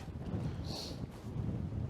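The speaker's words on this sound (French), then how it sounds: "Gros vent dans le dos." Strong wind buffets across an open golf course, a steady close rush of microphone wind noise blowing for the whole moment.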